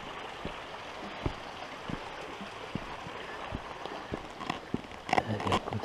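A small forest stream trickles steadily near a hiking trail, a soft continuous water wash with scattered footsteps and light knocks over it, growing busier toward the end.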